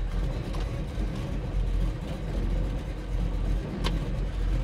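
A 1970 Chevrolet Nova on a test drive, its engine running with a steady low rumble and road noise heard from inside the car, with a few faint clicks.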